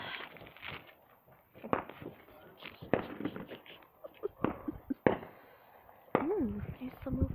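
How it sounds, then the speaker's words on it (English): Fourth of July fireworks pop and crackle in a backyard setting, a string of sharp bursts at varying distances, some near and loud, others fainter, while people talk over them throughout. "The fireworks are busy."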